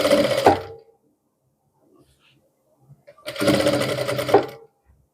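Two quick bursts of a sewing machine stitching a shirt collar, each about a second long, separated by near silence with faint handling sounds.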